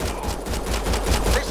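Rapid automatic gunfire in Mass Effect Andromeda, a fast, steady stream of close, loud shots over a low rumble, with no talk.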